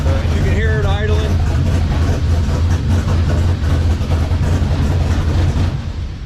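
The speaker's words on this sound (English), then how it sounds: "Oh, it started right up, guys. You can hear it idling." A big block Chevy V8 idles steadily just after starting, a loud low rumbling drone close by, with a brief voice near the start.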